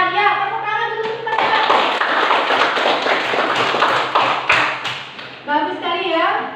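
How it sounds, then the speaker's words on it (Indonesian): Students in an Indonesian classroom give a round of applause, a dense burst of many hands clapping for about four seconds, with a voice speaking just before and after. "tepuk tangan dulu kita"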